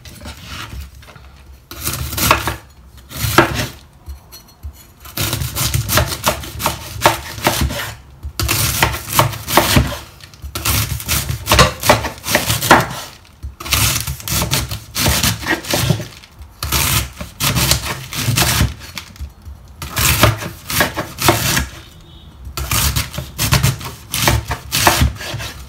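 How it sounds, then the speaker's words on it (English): A knife chops through a head of cabbage on a board in rapid, loud, repeated bursts of crunchy cuts, with short pauses between runs and no voices. "here I'm cutting the pieces a little bit smaller"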